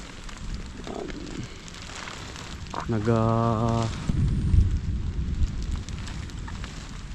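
Steady rain hissing and pattering throughout, with a brief tonal whine rising over it midway and a few louder thumps.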